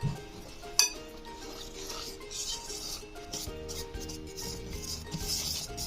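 A spoon stirs orange cake batter in a bowl, with soft, continuous rubbing and occasional light clinks against the sides, close and quiet.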